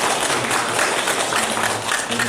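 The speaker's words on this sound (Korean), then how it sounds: "우리 박수로 환영하겠습니다." A church congregation claps together in welcome during a Sunday morning service, a dense, even wash of applause that stays loud and steady throughout.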